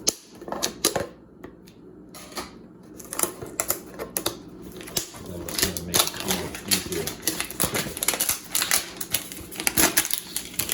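Repeated crinkly scraping and snapping of a thin plastic label being slit and peeled off a spray bottle, close up, in short irregular bursts without speech.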